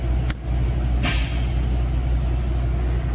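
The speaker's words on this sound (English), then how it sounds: "I heard a pop, which was the air pulling the pins in" A short sharp pneumatic pop and hiss as air pulls in the sliding fifth wheel locking pins of a semi truck cuts through the steady low rumble of its idling engine, with a smaller click just before it.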